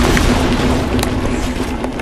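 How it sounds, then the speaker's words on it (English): Guided missile launcher firing in a video game, a single sustained booming blast with a heavy low rumble filling the whole moment, loud and close. "This is a guided missile launcher"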